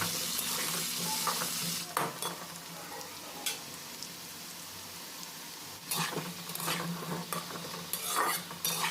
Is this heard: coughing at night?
no